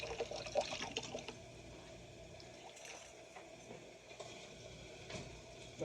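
Tap water pours into a pot that held about two cups of rice, a faint, steady splashing trickle with small clinks, close by and with no talk.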